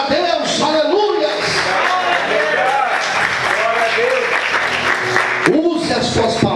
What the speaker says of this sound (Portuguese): Você pode aplaudir o Senhor e exaltar a Deus.